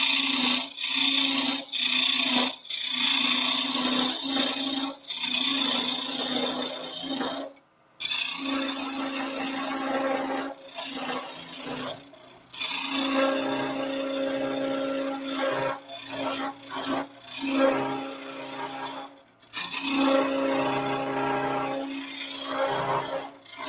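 A wooden top being turned on a lathe, a close, steady whirring hum overlaid with rasping scrapes and cuts from the tool, broken by several brief pauses where the cutting stops.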